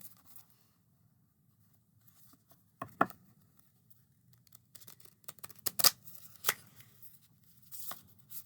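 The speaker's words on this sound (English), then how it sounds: "I'm just about dropping it trying to shuffle it" Soft papery riffling and scattered taps of a mini tarot deck being shuffled, with a few sharper flicks and slaps, close and quiet.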